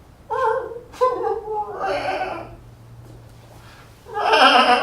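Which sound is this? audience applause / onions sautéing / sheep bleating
sheep bleating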